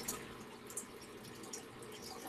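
Water dumped out of a small crab tank, a quiet trickling and splashing pour with a few brief drips and gurgles, close by and fairly soft, no talking.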